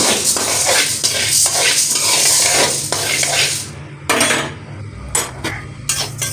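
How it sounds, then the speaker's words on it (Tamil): White corn, wheat and pearl millet dry-roasting in a pan on low heat, stirred with a spoon that gives repeated close scraping and rattling strokes over a faint crackle, easing into sparse knocks near the end. "இதெல்லாம் வறுத்து சத்து மாவு அரைக்கிறதுக்காக தான் வறுத்துட்ருக்கேன்."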